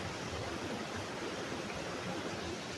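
Foamy waterfall water rushes in a constant, full broadband roar, steady and unbroken throughout with no talking.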